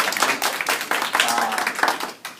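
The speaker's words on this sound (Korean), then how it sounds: "3조에게 다시 한번 박수 쳐주세요." Workshop attendees clap again for the third team after its presentation, a steady close patter of hands lasting the whole stretch while people talk over it.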